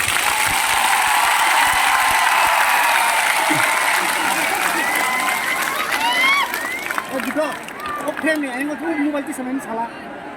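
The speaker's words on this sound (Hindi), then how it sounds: "सबसे बड़ा ताली आपको होना चाहिए।" Dense audience applause at a Tiprasa-language gathering, a broad steady wash of clapping that fades after several seconds into crowd chatter and a speaking voice.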